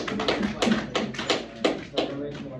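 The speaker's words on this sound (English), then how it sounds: "Give them a round of applause." Students in a first-hour English classroom clapping for their classmates: quick, uneven claps close by, mixed with some talking.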